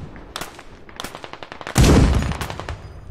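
Rapid gunshots crack out in the military shooter Squad, a quick run of sharp, close rifle reports followed by a louder, heavier blast near the end.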